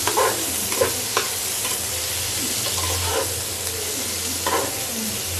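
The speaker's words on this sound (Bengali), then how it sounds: "এই পেঁয়াজটা এখন হালকা করে একটু ভেজে দেবো" Chopped onion fries with chilies, turmeric and spices in a pan over a gas stove, a steady broadband sizzle with scattered scraping stir strokes throughout, fairly loud and close.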